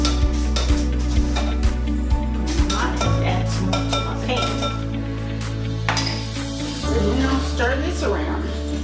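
A spoon clinks and scrapes around a bowl while stirring a mixture for salmon slider patties, rapid light metallic taps under steady talking and a low background hum.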